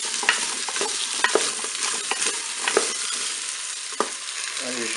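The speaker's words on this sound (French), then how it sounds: "je vais faire dorer un petit peu mes pommes de terre" Potatoes brown in hot oil inside a Cookeo multicooker, a steady sizzle broken by sharp clicks and scrapes of stirring, close and clear with no talking.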